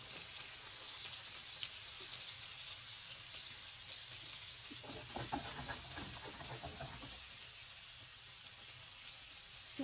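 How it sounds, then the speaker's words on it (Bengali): Prawns fry in hot oil in a pan, giving a soft, steady sizzle and hiss that stays faint throughout, with a slightly busier crackle near the middle. "এখন ভেজে নিব আমি লাল লাল করে"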